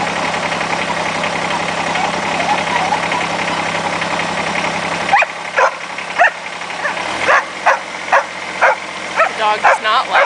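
A dog barks repeatedly at a running tractor, sharp barks in a steady rhythm over the engine's low idling rumble, which cuts out midway, leaving the barking louder and clearer; a person speaks nearby.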